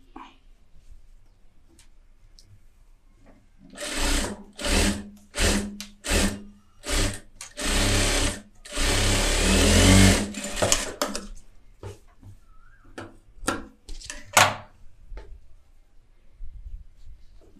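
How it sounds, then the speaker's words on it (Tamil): A sewing machine runs an edge seam in a series of short and longer whirring bursts, loud and close, with a sustained run near the middle and scattered clicks of handling between. "இப்போ ஓர தையல் நான் போடுறேன்."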